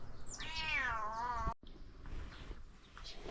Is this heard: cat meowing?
yes